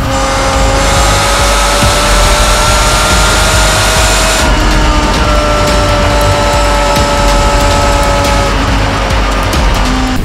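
A supercharged Kawasaki Z H2 roadster ridden at about 285 km/h, with loud, steady roaring wind buffeting over the engine's constant whine. It runs continuously with no speech.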